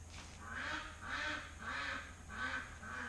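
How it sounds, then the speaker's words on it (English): Ducks quack in a slow, regular rhythm, four or five loud calls spaced about half a second apart, fairly close over a low steady hum, with no talking. "Yes, duckies, I hear you."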